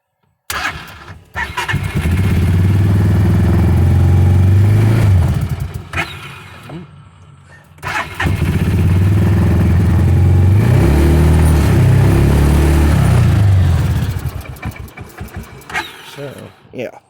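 A UTV engine cranks and catches, then revs loudly for several seconds, drops back briefly and revs hard again in a long sustained burst, sounding close. A voice talks over part of it.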